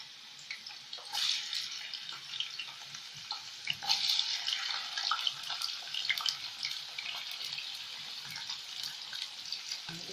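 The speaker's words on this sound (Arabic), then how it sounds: "يا حبايبي انا هحمر البطاطس اهو." Potatoes hiss and sizzle steadily in hot oil in a home kitchen, a dense, moderately loud crackle running the whole time with scattered sharper pops and no voices.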